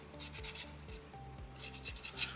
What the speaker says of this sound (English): I'll just use the sandpaper to finish those up.